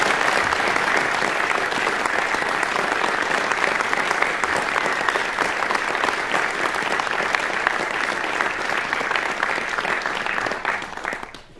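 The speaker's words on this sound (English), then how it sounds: "please, a big round of applause for Constanze." Sustained, loud audience applause at a trombone recital, steady dense clapping filling the space for about eleven seconds before tapering off at the end.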